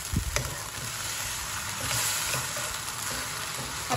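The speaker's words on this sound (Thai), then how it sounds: "ผัดต่อนะคะจนกว่าทุกอย่างจะเริ่มสุก" Yellow noodles stir-fry as chow mein in a pan with a steady loud sizzle, joined by intermittent scrapes and clacks of a utensil tossing them, close and without talk.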